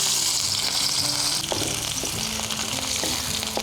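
Onion, bay leaves, cloves and cinnamon frying in oil in a pan on a portable gas stove outdoors, a dense, steady close sizzle with faint clinks and stirring, no talk.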